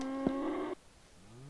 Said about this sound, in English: Big cow. What is it doing?